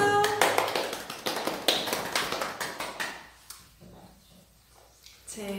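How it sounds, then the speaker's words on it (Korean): A short burst of quick, crisp hand claps rings out up close, a rapid flurry that fades into quiet before a voice begins. "박수!"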